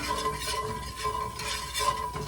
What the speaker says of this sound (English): Let me get a spatula here. We're going to stir this around in that oil.